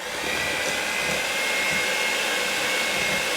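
An electric mixer beats cream cheese, powdered sugar and a little milk for keto cream cheese peppermints. A steady, close whirring runs the whole time without a break, and nobody speaks.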